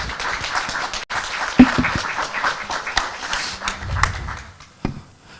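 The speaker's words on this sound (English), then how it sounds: "A round of applause for our speakers." Scattered audience applause at a business services forum and awards event, moderate clapping with a few sharper claps and thumps nearby, thinning out toward the end.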